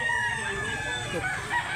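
A rooster crows at a South Cebu chicken market in Mantalungon, Barili, one loud drawn-out call up close over the murmur of the market crowd.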